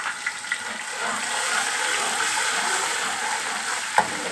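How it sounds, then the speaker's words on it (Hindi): Garlic and ginger frying with onions in a pan for mung dal khichdi: a steady, close sizzle and crackle of hot oil with a faint clink near the end, no voices. "और इतनी देर भुनेंगे"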